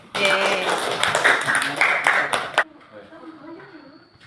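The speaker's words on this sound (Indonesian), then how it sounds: "Kasih tepuk tangan untuk Rafa" A classroom of students bursts into dense applause for a classmate, loud and close for about two and a half seconds before it cuts off sharply, leaving a quiet room with faint background noise.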